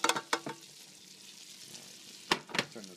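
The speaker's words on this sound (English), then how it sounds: "now we'll saute this for about 5 minutes until the onions start to soften up a bit" Onion and garlic sizzling in half a cup of butter in a pot for beer cheese soup, with sharp bursts of stirring and scraping at the start and end and a quieter frying hiss between them.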